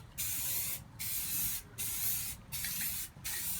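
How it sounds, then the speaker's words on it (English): Spray can laying a light coat of primer on a guitar body: five short hissing bursts of even length, separated by brief pauses, close and steady. "we're going to do our blast. Just a nice light coat of primer."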